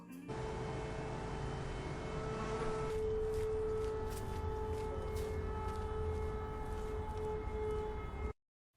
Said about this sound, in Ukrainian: стрічку Володимира Туряниці Думки про мир під час повітряної тривоги, де зображується Київ, який навіть під час небезпеки продовжує свій рух